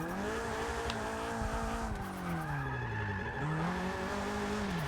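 A Nissan 240SX drifts in Forza Motorsport 6, its engine holding a steady high rev with sweeping pitch changes as the spinning rear tires squeal continuously, loud and close throughout.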